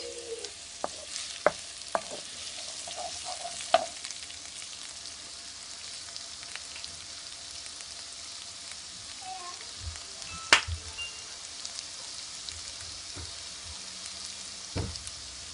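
Onions sizzle steadily in a hot pan during a meal prep, a soft continuous crackle broken by a few sharp stirring knocks and scrapes, close and fairly quiet, with no talking.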